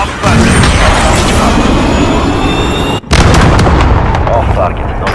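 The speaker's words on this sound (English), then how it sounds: "Cruise missile." Cruise missile strike in a search and destroy match of a military shooter video game: a loud roaring barrage of booms and blasts, a brief dropout, then another heavy impact rumble, with gunfire mixed in.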